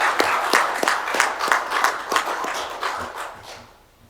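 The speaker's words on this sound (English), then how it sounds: "applause." Applause from an audience at a county Board of Commissioners meeting, a dense run of clapping with sharp individual claps that holds steady for about three seconds and then fades out.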